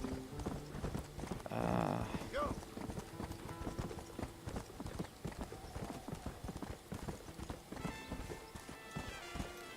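Continuous horse hooves clip-clopping at a steady trot in the video game Red Dead Redemption, with a brief whoosh and some ambient game sounds behind the rhythm.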